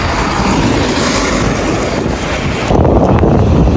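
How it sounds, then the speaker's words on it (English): Loud, steady wind roaring and buffeting against the microphone outdoors, a constant rumble that grows slightly stronger near the end. "it's so windy out here"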